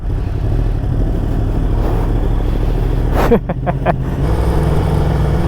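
A Yamaha R1 sport motorcycle fitted with a racing air filter rides along on the road near Monaco, its engine a steady loud drone, with a brief series of sharp rapid pulses like quick gear changes near the end.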